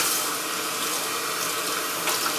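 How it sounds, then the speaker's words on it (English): Water runs steadily from a tap to rinse out the dirty-water tank of a Bissell rug and carpet cleaner, a loud continuous splashing hiss with no break. "with the tap, I'll rinse out this area"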